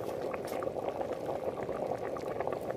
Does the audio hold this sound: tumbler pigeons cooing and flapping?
no